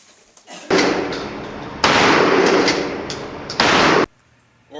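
Gunfire sounds as three loud, harsh bursts, each lasting about a second, with short gaps between them and near silence before and after.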